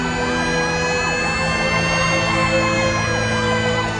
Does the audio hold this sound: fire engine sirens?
yes